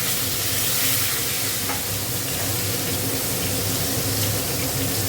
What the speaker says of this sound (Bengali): পটলটা একটু ভেজে নেব।